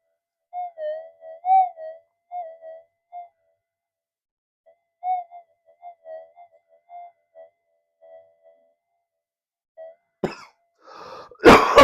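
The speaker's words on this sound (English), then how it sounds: "I'm going to go into a coughing fit." Soft, intermittent voiced sounds give way to a few sharp, loud coughs bursting out close by at the very end.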